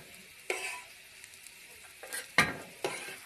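Taro leaf rolls fry in oil with a soft, quiet sizzle, broken by a few sharper stirring clinks and scrapes; no talking.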